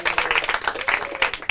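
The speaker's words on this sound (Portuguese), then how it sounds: "Salvam de palmas para eles." An audience at a Portuguese-language school quiz claps for a team, a quick patter of applause from a modest crowd that carries on through the whole short stretch.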